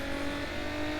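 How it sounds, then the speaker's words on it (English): Steady car engine drone with sustained tonal hum in NFS Underground, a street racing video game, as the car downshifts a gear; loud and continuous for about a second, no talk. "Now I just need to shift down one gear."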